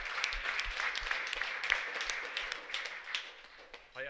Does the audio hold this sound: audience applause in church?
yes